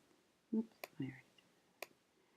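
Computer mouse clicks while answering an online anatomy quiz: a few sharp, quiet single clicks spaced apart, close up in a quiet room, with faint murmured speech between them.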